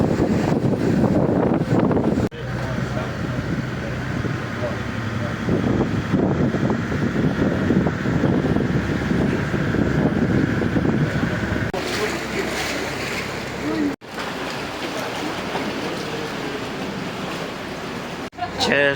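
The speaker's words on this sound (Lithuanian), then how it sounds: "Bangos." Sea waves at Tossa de Mar beach on the Costa Brava wash in as a continuous, fairly loud surf roar mixed with wind noise, with a voice speaking in places and a short break midway.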